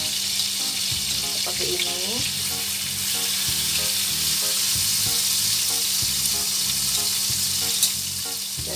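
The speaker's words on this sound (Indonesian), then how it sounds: "kita goreng di mentega" Steady crackling sizzle of egg-dipped white bread frying in butter in a pan, continuous throughout, with a voice speaking briefly over it.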